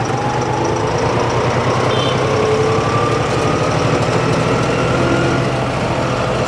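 A John Deere tractor engine on a main road, loud and close, a steady diesel drone with a rapid rhythmic chug and slowly rising pitch as the revs are pulled higher.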